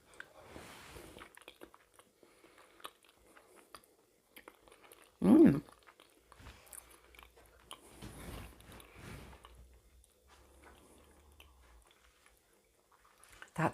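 Someone eating air fryer macaroni cheese with a pastry topping, close soft chewing and squishy bites with a louder crunchy bite partway through, set against quiet room sound.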